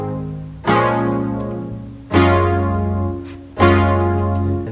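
Juno 6 emulator synth plugin chords doubled with an added lower bass note for a deeper sound, three loud sustained chord hits spaced evenly, each bright at the onset and fading into a warm, full pad with no talking.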